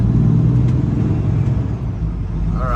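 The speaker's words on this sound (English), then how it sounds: "he hit the throttle right in front of the truck stop" A truck rolling coal outside a truck stop gives off a loud, continuous deep diesel rumble that holds steady throughout, close by and with no voices.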